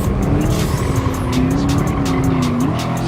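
A Chevrolet race car with weak acceleration races in Gran Turismo Sport, its engine droning loudly and steadily with tire squeal and the noise of other cars close by.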